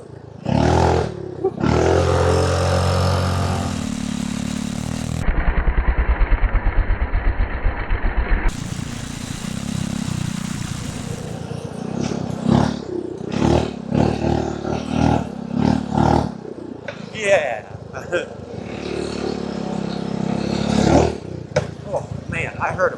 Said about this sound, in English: I can feel the front end lift every time I rev it up